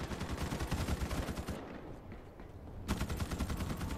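Rapid automatic gunfire fills a multiplayer match of the video game Starship Troopers: Extermination, a dense rattling stream of shots that breaks off briefly and then resumes just as loud.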